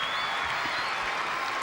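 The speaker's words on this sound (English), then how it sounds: "They're applauding" Applause from a tennis crowd at match point on a cold, rainy day, a dense, fairly distant wash of clapping that stays steady and moderate throughout a short stretch.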